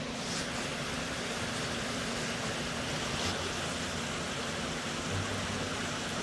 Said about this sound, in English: it's quite loud with that water thrashing through there